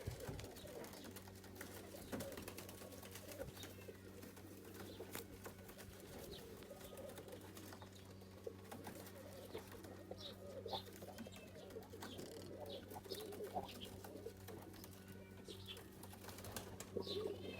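A male Dur Dur teddy pigeon coos softly at a distance, faint repeated coo phrases over a low steady hum and background noise.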